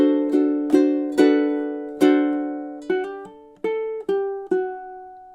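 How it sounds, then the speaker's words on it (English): Ukulele playing two measures of a song, a steady run of plucked and strummed notes and chords at a moderate pace, clear and close with no talking. "measures 13 and 14 should sound something like this."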